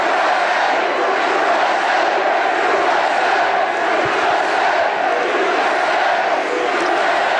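A rally crowd in Greensboro, North Carolina cheers and roars in a dense, continuous wash of voices, loud and unbroken throughout.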